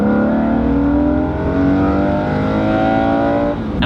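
A BMW M3 engine fitted with an M50 intake manifold revs steadily upward, its tone climbing in a continuous loud drone before easing off near the end.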